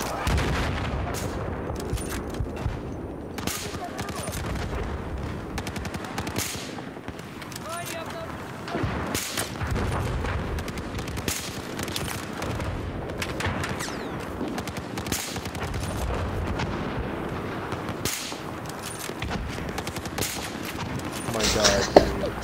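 Sniper rifle shots crack repeatedly in a video game amid a dense stream of other gunfire and explosions, loud and continuous, with players talking over the action.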